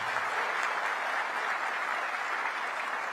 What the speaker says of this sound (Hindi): आप जोर से ताली बजाना